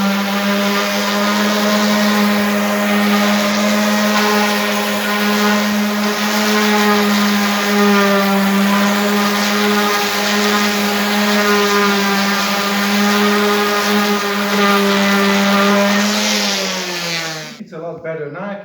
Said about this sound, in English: let's just give it a light sand with a 120 grit, just lightly, and see where we are